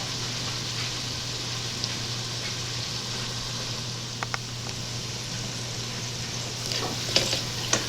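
Chopped vegetables sweat over medium heat in a hot pan as the base for shrimp stuffed eggplant, giving a steady soft sizzle with faint stirring clicks near the end.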